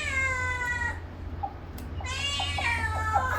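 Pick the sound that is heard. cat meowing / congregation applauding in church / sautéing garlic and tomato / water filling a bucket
cat meowing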